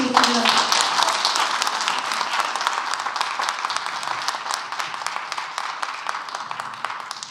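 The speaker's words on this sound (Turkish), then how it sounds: "Alkışları da not aldık." Audience at a faculty academic board meeting applauding steadily, dense clapping from a roomful of people that holds at an even level and tapers slightly toward the end.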